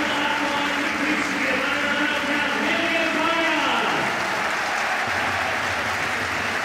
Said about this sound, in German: Und da gibt es jetzt tosenden Applaus für ihn hier